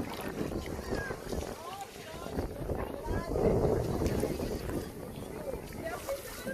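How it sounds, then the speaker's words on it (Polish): Strong wind buffets the microphone in continuous rumbling gusts while a person talks, with water lapping faintly in the background on Elafonisi beach, Crete. "tu jest dosyć mocny wiatr."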